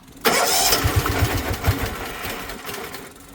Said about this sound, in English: Will this engine finally run in this Bonser?